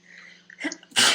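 A single sharp human sneeze bursts out loud and close at the end, preceded by a brief inhale and quiet room tone.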